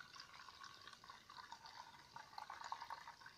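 Brine drained from fermented pickled corn pours into a container, a faint continuous trickle with small splashes throughout.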